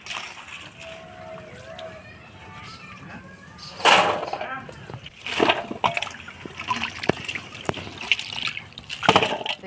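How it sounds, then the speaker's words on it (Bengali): Chopped vegetables are washed by hand in water for a winter khichdi, with sloshing, splashing and dripping bursts that come and go under a voice. "সবজিগুলো কাটিয়ে নিলাম, এবার ভালো করে ধুয়ে নিব।"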